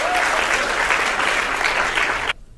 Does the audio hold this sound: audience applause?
yes